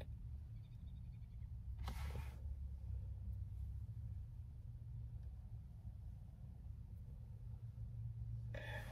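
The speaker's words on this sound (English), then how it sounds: "I'm filming this video in the car" Inside a car, a low, steady rumble of road and engine noise fills the cabin, with a couple of brief clicks or thumps and no clear speech.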